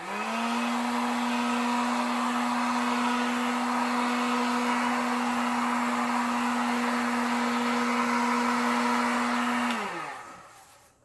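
A heat gun blows over an acrylic pour on a wooden lazy susan, a loud, close, steady fan roar with a constant motor hum that runs for about ten seconds before spinning down.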